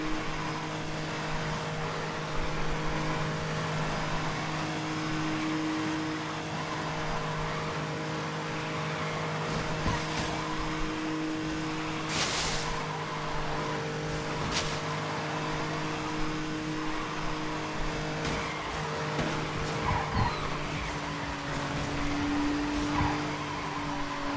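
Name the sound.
car drifting with tire squeal in video game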